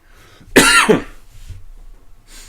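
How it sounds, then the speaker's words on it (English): A single harsh, close cough, followed by near silence and faint background noise. "Sorry for my wonderful cough."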